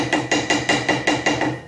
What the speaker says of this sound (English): I'm going to take my little hammer and tap her down.